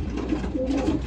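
A pigeon cooing close by, a short low throaty coo with a steady rolling rhythm, alone.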